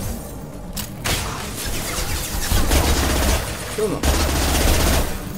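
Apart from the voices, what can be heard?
gunfire from a recoiling gun in Mass Effect 2 video game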